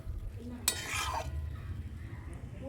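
A spoon stirs a vegetarian cauliflower curry in a pan, a short burst of scraping and clinking against a low background simmer, fairly quiet and close.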